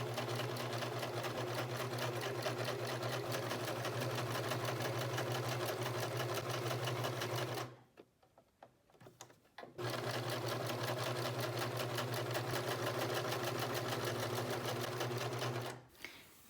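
A sewing machine runs steadily, stitching folded fabric straps for a ruched crop top, close and continuous with an even mechanical hum, stopping briefly for about two seconds midway before resuming.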